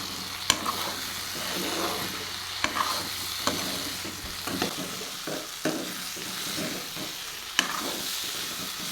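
Ground cumin frying in hot oil in a pan for a taro and lentil curry, a steady close sizzle broken by repeated scraping stirs of a spoon against the pan.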